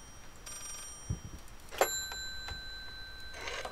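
An old telephone rings in the Layers of Fear horror game, its bell tones coming in short faint bursts over a quiet background with a few soft knocks.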